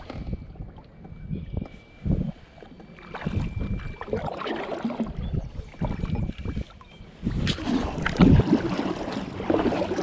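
Paddling a small boat across a lake on a fishing outing, with uneven splashy strokes and knocks, light wind noise and water movement throughout, getting louder and busier toward the end.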